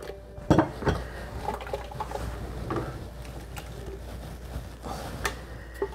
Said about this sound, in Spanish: Ya que está la mantequilla bien derretida, ahora sí le ponemos el ajo y la cebolla.